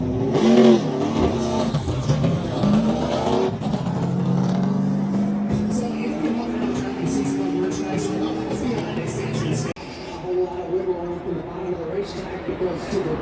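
NASCAR Craftsman trucks race around an oval, engines roaring and rising in pitch as they pass, with a loud continuous drone and a sweeping tone while a commentator talks over the top.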